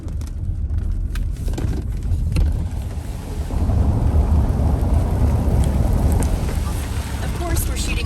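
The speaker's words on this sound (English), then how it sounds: "we're shooting on a day where it actually decided to rain" Steady rain and road noise fill the cabin of a car driving through The Groves in Humble, a continuous broadband wash that thickens midway, with no talk.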